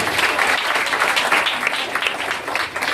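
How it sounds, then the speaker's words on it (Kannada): A crowd at a school Children's Day felicitation claps loudly for the girls' volleyball team, with dense, steady applause filling the whole stretch without pause. "ಆ ವಿದ್ಯಾರ್ಥಿನಿಯರಿಗೂ ಕೂಡ ಒಂದು ಜೋರ ಚಪ್ಪಾಳೆ"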